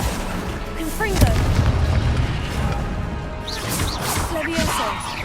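A Confringo blasting-spell explosion in Hogwarts Legacy, heard as a loud boom followed by rumbling crashes and swooshing magical effects amid continuous combat noise, with a voice speaking over it.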